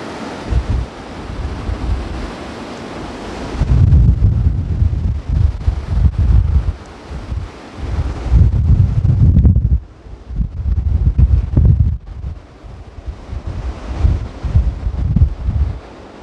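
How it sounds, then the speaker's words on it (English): Heavy storm wind roaring and buffeting a microphone outside St John the Evangelist Church in Little Leighs, Essex, with loud rumbling gusts rising and falling over a constant hiss of blowing air and rain. "very bad storm that's hitting at the moment"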